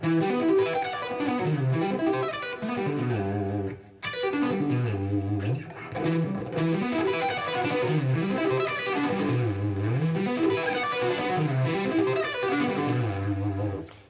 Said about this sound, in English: incorporating two techniques. One is sweeping across the strings, and then the other one is hammering on